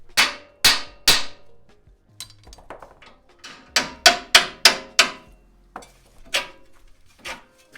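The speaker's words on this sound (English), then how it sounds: "I'm going to bang on this knuckle so this tie rod gets released from the knuckle right here." A hammer strikes a steel steering knuckle on a Ford F150 to release the tie rod, sharp ringing bangs in irregular bursts, some quick pairs and runs, each clang decaying quickly, close by.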